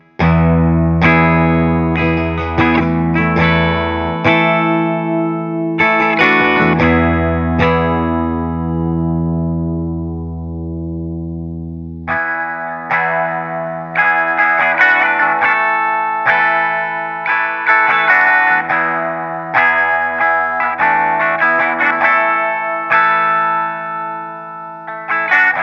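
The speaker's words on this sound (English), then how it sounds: "I'm going to play the amp without the pedal and then turn it on so you can see the difference" An electric guitar through an amp plays a chord riff cleanly, then after a short pause the same playing returns through a lo-fi phone or radio pedal, sounding thinner, narrower and more strident.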